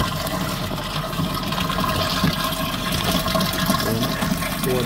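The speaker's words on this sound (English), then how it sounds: "Now water is entering" Water pours steadily into a container at a broiler poultry farm, a loud, continuous rushing and splashing that stays close and unbroken throughout.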